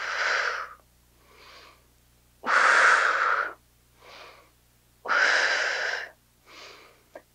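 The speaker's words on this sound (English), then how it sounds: "You can find the breath pattern that works best for you, but make sure you're not holding your breath." Heavy, audible breaths during a Pilates slider workout on a mat, three strong exhalations alternating with softer inhalations in a steady rhythm, close and without talk.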